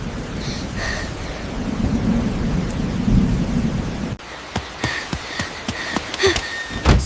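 A thunderstorm rumbles with a long, heavy roll of thunder over steady rain, then sharp drops and crackles of rain hitting surfaces close by, with gusts of wind buffeting.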